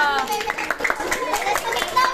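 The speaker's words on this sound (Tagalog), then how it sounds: "Palakpak eh." A few people clap in quick bursts at a casual anniversary gathering, close and uneven, with children and adults chattering and laughing over the clapping throughout.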